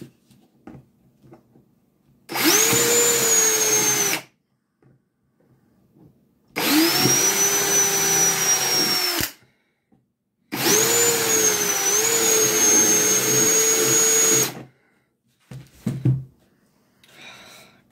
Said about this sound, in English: Lee using a drill